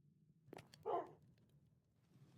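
A dog in a video game gives a couple of short, faint barks, one brief yip followed by a fuller bark, against a quiet background.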